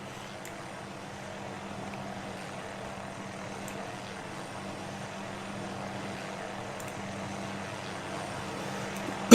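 A propeller aircraft drones in to land in the video game Arma with ALiVE, a steady low engine hum that slowly swells louder over the span, with no speech.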